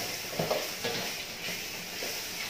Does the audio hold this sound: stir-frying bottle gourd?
yes